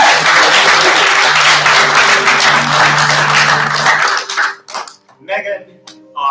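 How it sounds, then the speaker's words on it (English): An audience at a play gives a crew member a round of applause, dense sustained clapping that fills the room for about four seconds before breaking off, followed by a few scattered claps and faint murmurs. "He's not here today, but we'll still give him a round of applause."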